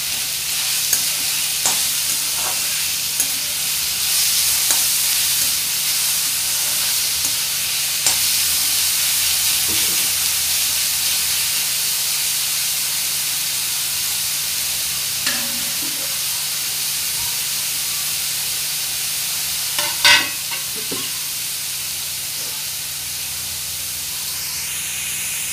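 Onion sautéing with salt in a pan for sheglyachi bhaji, a steady hiss and sizzle throughout with occasional soft stirring scrapes, close and even.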